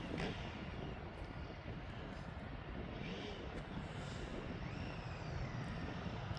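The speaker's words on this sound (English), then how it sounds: "And it's an Embraer Phantom 300 going down to London." An Embraer Phenom 300 business jet departs East Midlands Airport, its engine roar a faint, distant, steady wash with light wind noise throughout.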